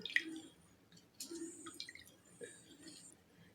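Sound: lemon juice squeezed into a pot of water

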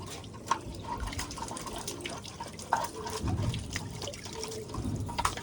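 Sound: water washing a pigeon feeding container

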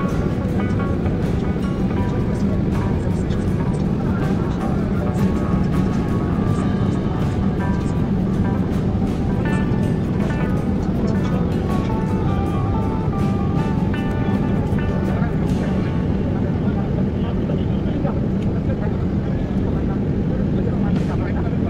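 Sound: passenger plane landing at Sylhet International Airport

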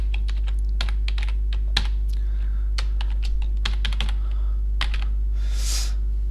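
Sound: typing code on a computer keyboard

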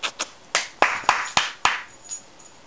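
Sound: hand clapping

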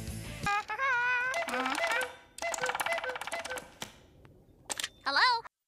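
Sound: telephone dialing in a SpongeBob cartoon

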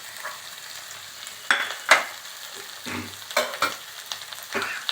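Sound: sautéing ginger and tomato in oil for mushroom curry

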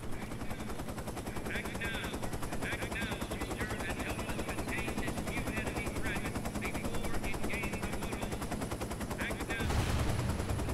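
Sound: machine gun fire in the video game Shellshock 2: Blood Trails

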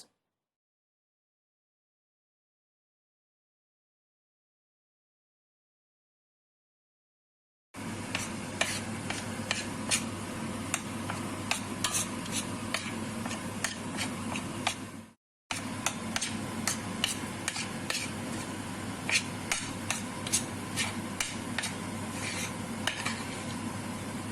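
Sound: stirring halva with walnuts in a pan

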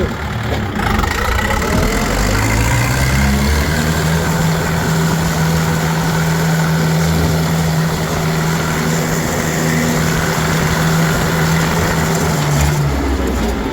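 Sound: tractor engine accelerating in third gear

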